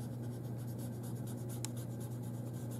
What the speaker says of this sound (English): I'm pushing that charcoal around on my paper, smoothing it out